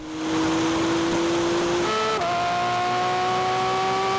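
A Porsche 911 GT3 RS and a Maserati MC20 race, with a loud engine howling steadily close by, holding a tone, shifting up and climbing again as it pulls through the gears, with no talk.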